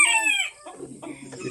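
Chickens on a poultry farm: a rooster crows loudly and close, then softer clucks and low fowl murmurs follow, with no talk.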